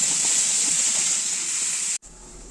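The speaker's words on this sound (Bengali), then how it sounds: "এবার আলুগুলো ভেজে নিই।" Salted potatoes fry in a pan with a steady bright sizzle, then the sound cuts off abruptly and leaves a quieter hiss.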